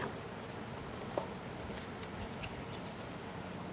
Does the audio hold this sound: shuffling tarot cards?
yes